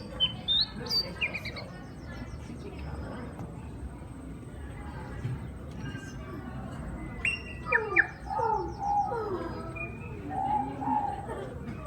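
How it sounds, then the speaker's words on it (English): Parrot calls, sharp squawks and chirps, play from a museum exhibit's sound display in Wellington, New Zealand, set over a busy hum of visitor chatter and room noise. "An alpine parrot."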